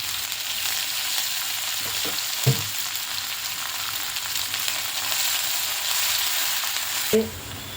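Continuous hissing sizzle of a tempering of curry leaves, chili, ginger and coriander in hot oil, with a few soft knocks of a utensil against the pan.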